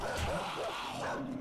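A zombie dog in the survival game 7 Days to Die yelps and barks while under attack, the sounds coming dense and continuous over the game's background noise with a voice faintly present.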